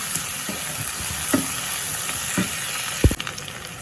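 Garlic sautés in a pan while cooking for a radish and drumstick sambar. A constant close sizzle carries several spatula taps and scrapes as it is stirred, with a louder knock near the end.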